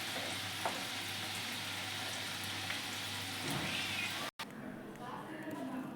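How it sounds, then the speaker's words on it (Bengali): Palm fruit fritters (taler bora) frying in hot oil give a steady close sizzle, with a brief cutout partway before the frying noise resumes more quietly. "লাল লাল করে ভেজে নিয়ে তুলে নেব।"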